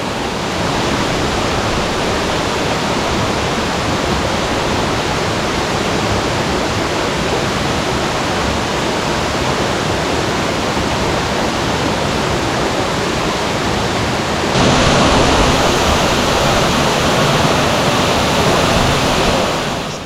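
Loud, steady roar of a nearby waterfall in Australia's Blue Mountains, broadband rushing water that grows slightly louder and brighter toward the end, with no voices.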